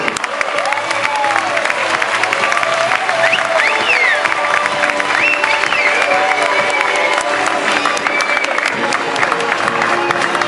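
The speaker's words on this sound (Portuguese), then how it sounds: "Já uma salva de palmas para o João Barriga" Sustained, loud audience applause and cheering at a school fashion show, filling the whole stretch with dense clapping from a crowd.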